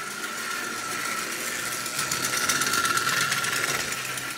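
A Marx prewar 999 toy car with a noisy electric motor whirs steadily and loudly up close, a continuous buzzing drone that grows slightly stronger partway through, with no talking.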